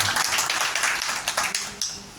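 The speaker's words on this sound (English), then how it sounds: "Please give a huge round of applause." Applause from an audience at a general body meeting, a steady wash of many hands clapping at moderate distance, with a few louder individual claps standing out and a faint voice underneath.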